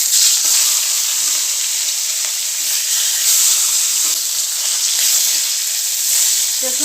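Fish heads frying in hot oil in a wok give a loud, dense, continuous sizzle with a few faint knocks underneath, close and unbroken for the whole stretch.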